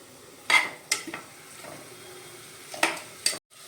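Potato pieces are stirred into masala in a pan, with a few sharp spoon scrapes and clinks against the metal over a soft background, spaced apart and close by.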